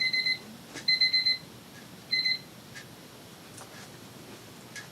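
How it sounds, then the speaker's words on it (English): A medicine reminder alarm goes off with bright, high electronic beeps in short bursts, one burst, then a longer run, then another, sounding fairly close in a quiet room. "That was my medicine alarm"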